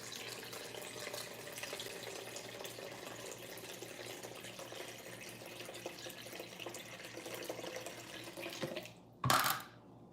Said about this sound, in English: Now that the yogurt is nice and whisked, I'm gonna add water to it.